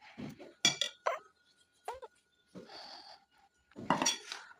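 Cut fruit pieces being dropped into a steel grinder jar, giving a few separate clinks and knocks with short gaps between them, close by, and no talking.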